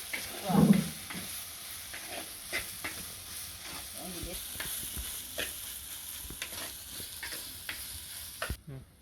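Seafood sautéing in a pan during home cooking, giving a faint, continuous sizzle broken by scattered clicks and scrapes of stirring, with a brief louder clatter near the start and no talking.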